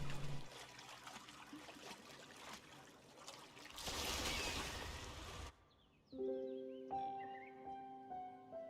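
Flowing water in a video game, a steady trickling stream that swells briefly, then fades as soft musical tones take over.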